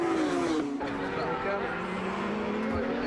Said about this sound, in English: Now it's up through the gears, heading top gear here in top speed with about 150 miles an hour